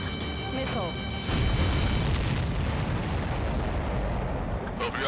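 Enemy supply ships explode in Ace Combat 7, a loud rumbling burst that swells into a sustained roaring boom with heavy low-end noise, layered over game music and sound effects.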